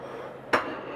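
A knife slices through a grilled cheese sandwich on a plate in a home kitchen: one short, sharp crunch-clink near the middle, fairly close, over a quiet room hum.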